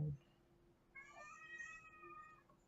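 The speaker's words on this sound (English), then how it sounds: "And that's my cat." A house cat gives one drawn-out, tonal meow lasting about a second, faint and somewhat distant over a low steady hum, with no talking during it.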